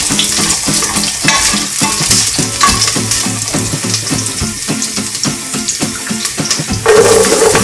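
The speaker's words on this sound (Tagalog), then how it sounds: "At kapag mainit na yung mantika, pwede na nating ilagay yung garlic. Igigisa muna natin siya." Garlic sautéing in hot oil for a Filipino laing dish, a steady dense sizzle with occasional stirring clatter, fairly loud and close, with a low rhythmic background underneath.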